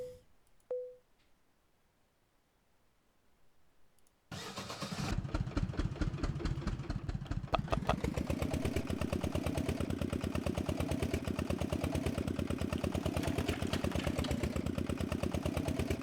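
After a few seconds of near silence, a tractor engine in the video game Professional Farmer 2014 starts up and settles into a steady, rhythmic mechanical idle that continues loud and unbroken.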